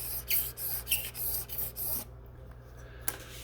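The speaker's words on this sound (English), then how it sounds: "Lots of scraping involved." Repeated short rasping scrapes on a guitar's sparkle paint finish while chips are filled and leveled, about eight close strokes in a steady rhythm, then a pause and one last scrape.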